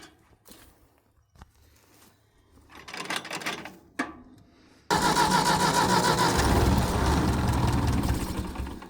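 A vehicle engine, likely a tractor on a gravel-hauling workday, cranks after some quiet shuffling and a sharp knock, then catches and settles into a steady, loud, close running rumble.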